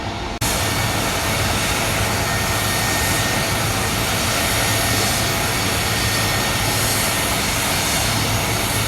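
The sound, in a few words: Air Force One jet aircraft arriving at JFK airport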